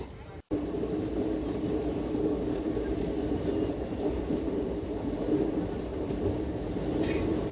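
An Intercity Express train pulls out of Lonavala station on the Pune to Mumbai line, giving a steady broad rumble heard from on board that stays even throughout, after a brief dropout near the start.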